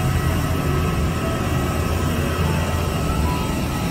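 Steady, loud broadband roar of a passenger airplane cabin in flight, a constant engine and air rush with no pauses and no voices.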